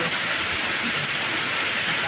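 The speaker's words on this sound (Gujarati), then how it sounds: "अचानक ફૂલ વરસાદ આવી ગયા ખૂબ જ" Heavy, sudden downpour heard outdoors on a road, a dense, loud, continuous roar of rain with no voices.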